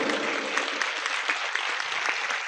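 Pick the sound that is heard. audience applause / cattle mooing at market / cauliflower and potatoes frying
audience applause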